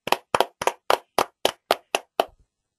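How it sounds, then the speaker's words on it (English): Nine evenly spaced hand claps ring out close and crisp, a short solo burst of clapping for online seminar contest participants, with no voices. "A big round of applause for all of you who have participated."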